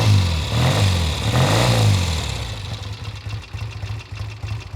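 A 1970 Triumph T120 Bonneville 650cc motorcycle engine fires up and revs briefly, then settles into a steady, lumpy idle with a rhythmic low chug, close by.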